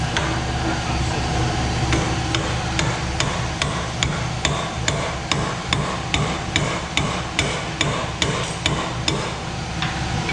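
Steady, repeated hammer blows ring out on a metal nut about once or twice a second, close and loud over a constant low mechanical hum.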